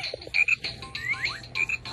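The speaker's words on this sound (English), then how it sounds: "It's this frog toy" A baby's frog toy gives out a series of loud, close electronic croaks in quick bursts, each with chirpy rising and falling tones and short gaps between them, with no talking.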